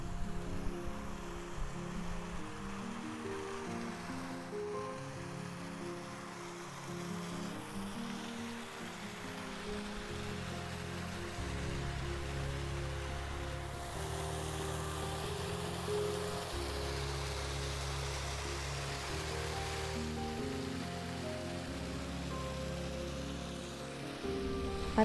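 Waterfall beside a forest trail in Sequoia National Park, a steady broadband rush of falling water that holds loud and even for the whole stretch, with no voices over it.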